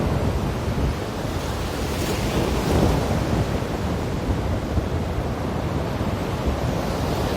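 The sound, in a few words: ocean waves on the sea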